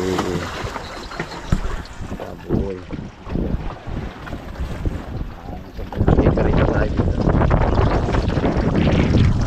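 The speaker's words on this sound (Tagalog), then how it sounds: "Ang lakas ng hangin" Strong northeast monsoon wind buffets the microphone in gusts, turning into a steady roar in the second half, with a few short spoken phrases.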